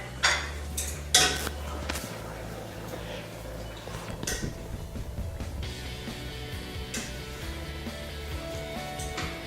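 Chopped tomatoes being stirred in a pot with a utensil, giving repeated scraping and clinking of metal against cookware, with a few sharper knocks early on and a faint ongoing sizzle.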